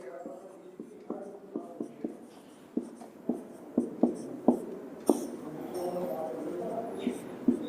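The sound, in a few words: writing vectors A and B by hand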